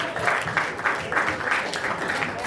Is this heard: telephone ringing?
no